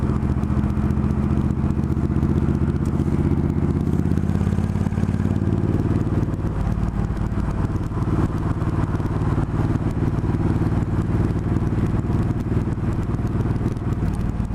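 A motorcycle ride between rain showers, with a steady engine drone and low rumble throughout, and wind and road noise filling the background.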